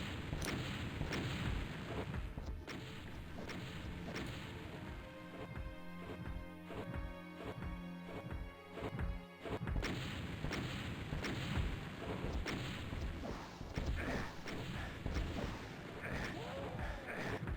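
Chaingunners firing in a Doom Sunlust map, dense rapid gunfire and explosive bursts crowding together continuously, loud with a brief buzzing mechanical stretch in the middle, under occasional talk.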